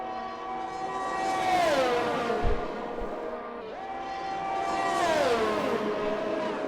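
High-revving Formula 1 engines from the racing game F1 2021 on the Saudi Arabia circuit scream up through the gears twice, pitch climbing then dropping at each shift, loud and close, with no talk.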